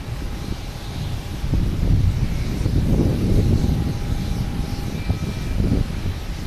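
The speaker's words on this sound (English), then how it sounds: "Delta coming in from Seattle on A321 Neo." A Delta Airbus A321neo arriving from Seattle descends to land at Boston Logan, its engine roar swelling steadily and holding loud, with a faint high whine threading through the broad rushing noise.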